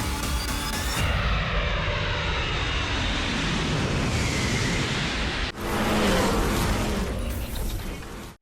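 Airplane engine roar from an aerial display during an anniversary celebration, loud and continuous with a brief dip near the middle before surging again, no talk.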